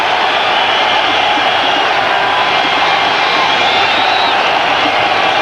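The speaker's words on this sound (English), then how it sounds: "The Indian crowd go berserk, saluting their captain, Mohammad Azharuddin" A huge Indian crowd at a 1999 Cricket World Cup match against New Zealand roars in a steady, dense wall of cheering and whistling that stays loud and unbroken throughout.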